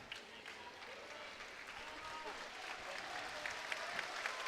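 A home crowd at a Korea Open 2018 table tennis quarterfinal cheers and claps steadily for Lee Sangsu, a dense, sustained roar of applause that swells slightly toward the end, with a voice faintly present beneath.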